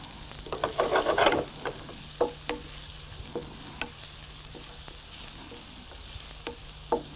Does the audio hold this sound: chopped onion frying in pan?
yes